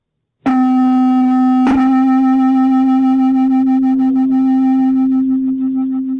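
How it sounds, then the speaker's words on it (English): Two steady sine tones at slightly different frequencies sound together and swell and fade in fast, regular beats. The pure pitch holds loud and unbroken for several seconds with a second tone added partway in. "So now the beats are a lot faster"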